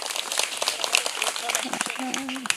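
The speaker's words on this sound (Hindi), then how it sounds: "मनोहर जी के लिए जोरदार तालियां हो जाए" Audience at a school gathering in Rajgarh clapping for Manohar Dangi, a steady patter of many hands with voices talking over it near the end.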